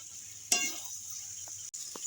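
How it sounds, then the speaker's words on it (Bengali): Cauliflower and potatoes sautéing with spices in a pan for an egg curry give a soft, low sizzle, broken by one sharp metallic clink of a utensil near the start and a few faint knocks later. "এবার আমি ফুলকপি আর আলু একসঙ্গে দিয়ে কষিয়ে নেব"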